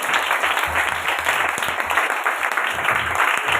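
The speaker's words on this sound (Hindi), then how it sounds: "जोरदार ताली हो जाए" A church congregation applauds loudly and steadily, a dense wash of many hands clapping continuously throughout with no break.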